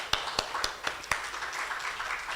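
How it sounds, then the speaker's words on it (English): A conference audience gives an organizing team a round of applause at a health systems forum, with a few sharp claps and then dense, even clapping that builds and holds for a couple of seconds. "I'd like us to give Strathmore a round of applause"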